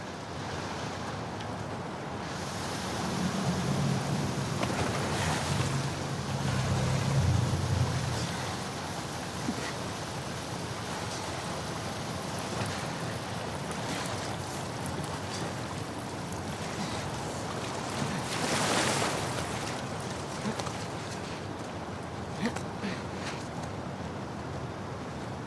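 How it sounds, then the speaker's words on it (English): A fast-flowing torrent of water rushes through the Seattle sewers in The Last of Us Part 2, a steady broadband roar with no speech, swelling slightly at moments. "the player was faced with a fast-flowing torrent of water they couldn't cross"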